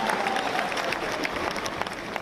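A crowd claps steadily and continuously, dense applause filling the whole stretch at an even, fairly loud level.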